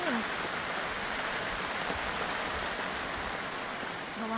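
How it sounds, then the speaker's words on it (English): Steady rain falls at a remote mountain campsite in a national park, a dense, even hiss of drops on surfaces throughout with no breaks. "It's starting to rain."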